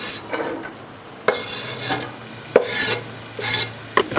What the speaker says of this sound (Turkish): Ve doğradığımız soğanları ekliyoruz.